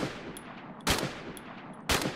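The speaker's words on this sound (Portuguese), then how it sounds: "Agora, ó, tiro da AUG" Two sharp AUG rifle shots from the mobile shooter Free Fire MAX, about one second apart, each a short, punchy burst standing out above a low, steady game background.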